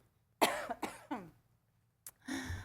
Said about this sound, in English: I'm sorry, I'm going to cough.